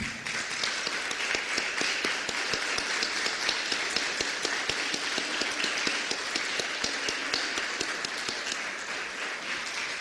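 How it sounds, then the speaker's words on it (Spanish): A church congregation claps together steadily for about ten seconds, a dense, even roar of many hands filling the space with no break. "Vamos a dar un aplauso al Señor"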